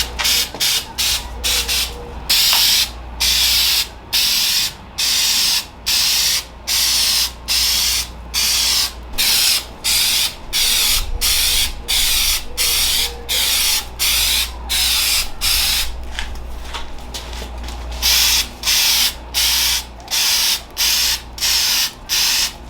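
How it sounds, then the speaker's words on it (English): A spray can lays clear coat on a wrapped vehicle part in repeated loud hissing bursts of about a second each, separated by brief pauses, close and steady with no talking. "we're about to go ahead and add some clear coat to it."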